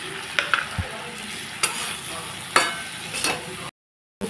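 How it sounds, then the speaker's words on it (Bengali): Boiled chickpeas fry with spices in a pan, a steady close sizzle broken by a few clinks of a stirring spoon before a brief silence. "বুটটা ভাজা ভাজা হয়ে গেছে,"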